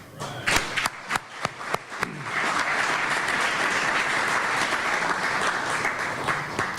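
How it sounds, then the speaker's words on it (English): A crowd breaks into applause, a few scattered claps first, then sustained, full clapping that carries on evenly. "another round of applause, please"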